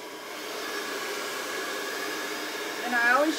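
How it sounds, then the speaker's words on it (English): A handheld blow dryer whirs steadily to dry paint on a craft project, a constant close airy roar that rises slightly toward the end. "let's hit it with a blow dryer."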